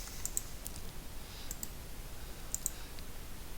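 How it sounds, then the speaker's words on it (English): Faint, sharp mouse clicks on a desktop computer come in pairs, three pairs spaced about a second apart over a low steady background hiss, with no voices. "With right clicking the mouse on the desktop"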